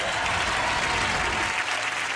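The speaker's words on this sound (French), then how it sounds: "on l'applaudit quand même" Studio audience applause on a French TV singing game show, steady dense clapping throughout the short moment, loud and close.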